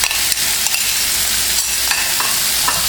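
Shrimp seasoned with salt and pepper sizzle loudly in a hot pan, a steady dense frying hiss with a few light stirring scrapes and clinks, close up and uninterrupted, no voices.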